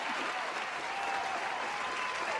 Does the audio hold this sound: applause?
yes